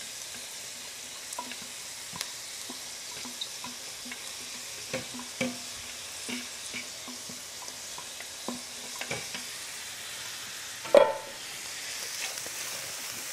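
Celery and shredded carrots sauté in a pan for tomato meat sauce, a soft, low sizzle with light intermittent clicks of stirring and one sharper clatter near the end.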